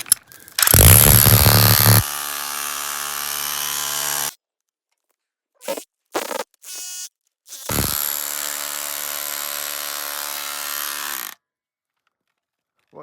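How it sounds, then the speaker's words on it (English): A jackhammer digging for opal in an Andamooka mine, loud close bursts of hammering that stop and restart in short blasts with silent gaps between. "I might go back to the jackhammer."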